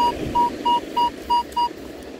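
Six short, evenly spaced beeps of a metal detector's target tone on a beach, clear and close, over faint background noise.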